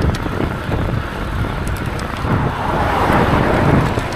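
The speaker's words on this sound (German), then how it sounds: "der Wind kommt von links, Alter." Wind blows outdoors against a moving rider, producing a loud, continuous rough buffeting roar that swells slightly toward the end, close to the microphone with no voices.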